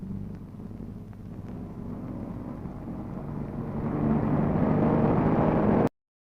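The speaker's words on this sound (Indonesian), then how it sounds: "Tampak barisan mesin penggilas jalanan bergerak bersama." A row of road rollers moves together, flattening stone ground into an aircraft runway. A steady low engine drone rumbles throughout, swelling louder toward the end before cutting off abruptly.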